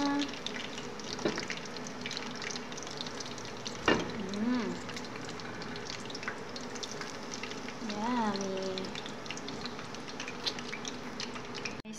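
Fish frying in a pan, a steady close sizzle with crackling, joined by brief tonal whistles and voices in the background.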